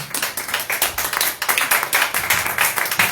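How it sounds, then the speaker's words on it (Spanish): A church congregation claps hands in praise, a dense rapid rhythm of many palms close and loud, continuous for the whole stretch with no talk. "Sostén esas palmas."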